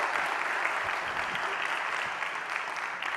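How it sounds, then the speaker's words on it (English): Sustained applause from an audience at a startup competition finals, honoring the sponsors behind the prize money; dense, steady clapping fills the whole stretch at moderate loudness with no voices on top. "huge round of applause to all the sponsors that are behind that amount"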